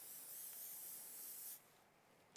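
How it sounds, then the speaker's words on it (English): Strong hairspray hisses steadily from a can into a client's hair at a hair show, a continuous close spray lasting about a second and a half before cutting off, followed by quiet room sound. "we can use some really nice strong spray. Just go into the hair like that."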